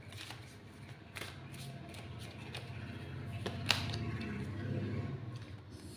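Tarot cards are shuffled by hand, quiet soft riffling and flicking taps running steadily throughout, with no voices.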